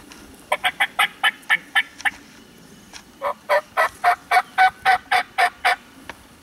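A wild turkey in South Carolina gobbles in two long rapid bursts of sharp, rattling calls, loud and fairly close, with no talking over it.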